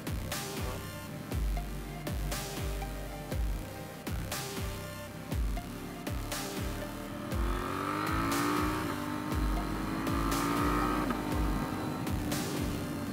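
Motorcycle engine on a ride through Harriman State Park near Bear Mountain, revving and shifting gears with an auto blipper and no clutch, repeated throttle blips and rising pitch sweeps over steady road and wind roar.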